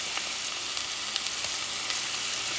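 Chorizo fries in a pan that already holds garlic, a close steady crackling sizzle with small pops and no voices.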